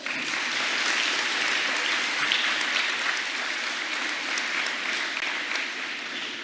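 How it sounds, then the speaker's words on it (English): Sustained applause from a large crowd at an outdoor high school graduation ceremony, a dense, steady wash of clapping throughout. "So let's give them a round of applause."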